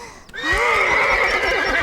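Cartoon horse on a farmyard neighing, a loud close whinny with a wavering rising then falling pitch, preceded by a brief thump.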